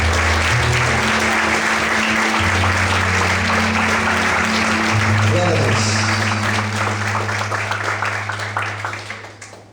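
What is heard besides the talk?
applause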